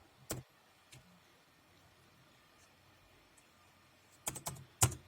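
Keys are typed on a computer keyboard in a few sparse, close clicks, one near the start and then a quick cluster toward the end, over a quiet room hum.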